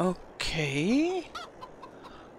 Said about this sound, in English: And obviously some chicken running around.